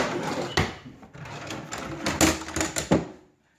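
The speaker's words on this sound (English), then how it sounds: "And then if I pull the bottom drawer out, there's treasure underneath." A bottom drawer pulled out of a piece of furniture during an interior walk-through, giving several sliding, knocking clatters of a few seconds, close and fairly loud with no talk over it.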